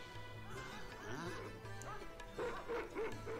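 Dogs bark and yip in an animated scene from Cowboy Bebop episode 14, with short, lively calls that repeat over a busy soundtrack of music and other effects.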